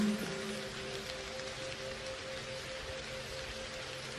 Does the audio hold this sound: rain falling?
yes